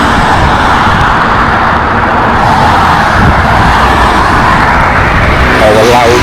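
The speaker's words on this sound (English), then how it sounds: "All the loud traffic." Loud, steady road traffic roars across the Brankov Most bridge in Belgrade, a continuous dense wash of passing cars and heavy vehicles heard close up from the bridge, with no pauses.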